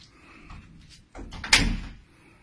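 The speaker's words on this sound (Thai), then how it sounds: "เปิดประตูหลังห้องไว้อ่ะ" Back door of a rented room opening with a quiet handle rattle, then a louder scrape and a sharp bang as it swings, close by with no talking.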